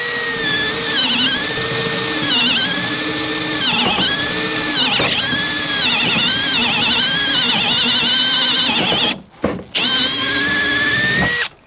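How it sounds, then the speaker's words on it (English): A compact 18/20 volt Makita or DeWalt cordless drill bores holes in wood, its loud whining motor rising and dipping through repeated bursts, then cutting out briefly as the trigger is released before spinning up again. "just for the sake of you hearing that drill stop there for a second, that was my finger coming off the trigger, not the drill stopping"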